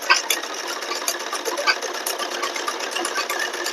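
A sewing machine stitches a half band collar onto a kurti, its fast, steady needle chatter running continuously and close up, with no talking.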